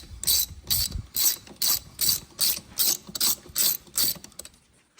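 A ratchet unthreads a brake caliper pin on a Honda GL1800 Goldwing, giving about nine quick, evenly spaced sharp clicking bursts close up before slowing to a stop.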